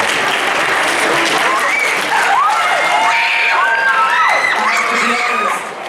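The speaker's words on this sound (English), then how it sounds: "I give it 10 rounds of applause." Loud, steady applause and cheering from a high school talent show audience, with whoops and shouted voices rising above the clapping for several seconds before easing at the end.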